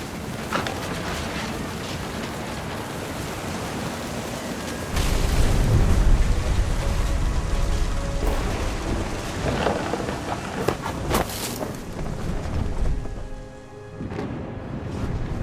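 Thunder rolls and rumbles through a storm in the video game What Remains of Edith Finch, with steady heavy rain underneath and a louder, deeper swell of thunder partway through, no voices.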